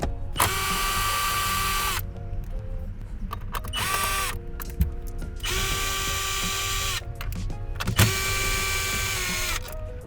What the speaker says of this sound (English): grab a socket and ratchet, preferably magnetic if you have one